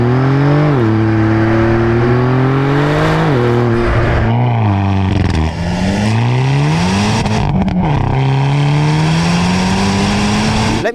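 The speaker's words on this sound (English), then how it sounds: "So I'm going to give you a montage of both cars driving, and you can then compare their sounds that way as well." Hyundai and Porsche Turbo S cars driving and revving in a continuous loud run, engine tones rising and falling with repeated throttle blips and gear changes, close and steady with no talking.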